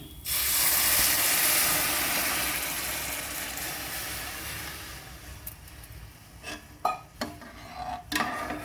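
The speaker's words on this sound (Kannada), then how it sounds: "ಈಗ ಇದಕ್ಕೆ ನೀರು ಹಾಕ್ತಾ ಇದ್ದೀನಿ" Water poured into roasted ingredients in a hot pan sets off a loud burst of hissing steam that slowly fades, followed by a few clinks and scrapes of a utensil against the pan.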